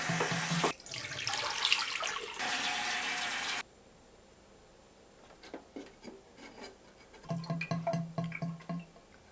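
Water runs over a cyanotype glass plate as it is rinsed. A loud gush stops abruptly, and scattered clinks, splashes and rubbing sounds follow close by.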